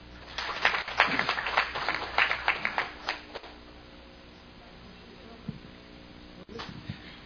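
Audience applause at a Jeju forum on the international free city and island of peace: a burst of clapping for about three seconds that fades out, leaving quiet room tone with a few faint knocks.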